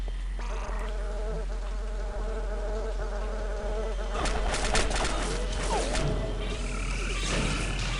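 Buzzing mosquitoes in the video game Daikatana, a continuous whining drone with insect-like hum layered over steady low game ambience, swelling louder midway and holding close, with no talking.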